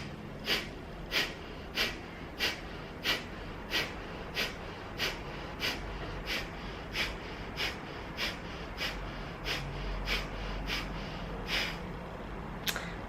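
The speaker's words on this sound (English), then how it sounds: "Now we're going to do it through the nose. So you take a big deep belly breath in." Deep belly breaths drawn through the nose repeat in a steady rhythm, about a dozen close, airy sniffing inhales and exhales, alone.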